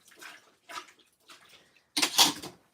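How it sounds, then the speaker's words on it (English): Dye bath water used for dyeing puppet fleece drains and splashes in four short bursts separated by pauses, the last burst louder and fuller, close by with no talking. "I'm letting some of this drain out, and then I'm just going to put it into the cool water"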